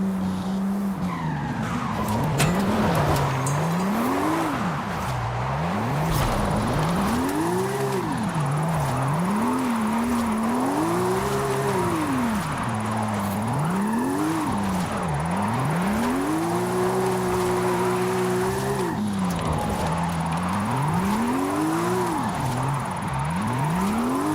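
Porsche drifting in Forza Horizon 5, engine revs rising and falling in long sweeping arcs over a continuous loud tire squeal, with no talking.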